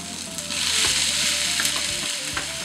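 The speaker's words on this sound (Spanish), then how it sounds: "Ya tenemos ahí bien pochadita la cebolla, así que le vamos a poner ahora el tomatito." Chopped tomato goes into a pan of onion and garlic frying for a sofrito. A loud, steady sizzle fills the clip, with a few soft stirring scrapes and no voices.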